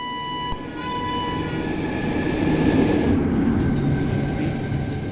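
A superfast express train rumbles past in a railway simulator game, a steady loud rolling roar of wheels on track that builds and holds, with a sustained tonal hum and a faint horn-like tone early on.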